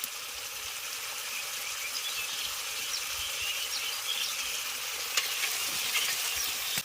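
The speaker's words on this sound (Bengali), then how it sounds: "এবার কাঁকড়াটাকে ভালো করে মশলার সঙ্গে কষিয়ে নিচ্ছেন" Crab pieces stir-fried with spices in a pan of part-boiled potatoes for a homestyle crab curry, giving a steady close sizzle with faint scraping of stirring, continuous and moderately soft, with no voices.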